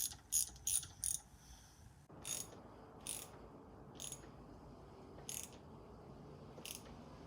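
A ratchet snugs a spark plug on a Yamaha outboard motor, giving a few quick close clicking bursts, then separate single clicks spaced about a second apart over a low steady background hum.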